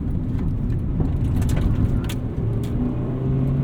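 A 1995 Acura Integra GSR engine drones loudly and steadily from inside the car, with a brief dip in the note partway through as the gear changes, then the engine pulls on.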